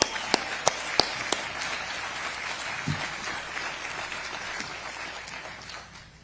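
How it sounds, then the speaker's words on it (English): An audience at the Netflix Studios groundbreaking in New Jersey applauds the construction team, a dense wash of clapping with a few sharp, close claps early on, fading out toward the end. "Let's clap it up for that team"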